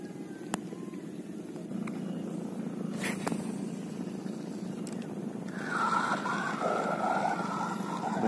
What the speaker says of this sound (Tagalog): Yung tunog ng reel natin, lumubog sa tubig eh.